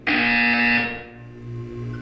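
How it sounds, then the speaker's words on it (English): A harsh electronic buzzer sounds in the Portal 2 video game, a single loud blaring tone lasting under a second before fading into a lower humming tail. "You will hear a buzzer."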